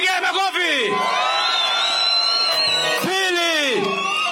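At an Azimio campaign rally in Nandi County, a large crowd roars, whoops and cheers loudly, with yells rising and falling over a dense wash of noise and a voice over a loudspeaker.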